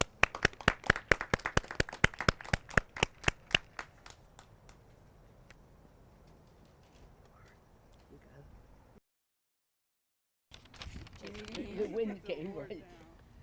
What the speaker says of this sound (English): if I could have a round of applause for Judy